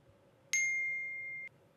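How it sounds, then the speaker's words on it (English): A CapCut incoming-call notification sound effect: one bright, clean electronic chime that holds steady for about a second and then stops sharply, with no other sound around it. "Here's an incoming call notification."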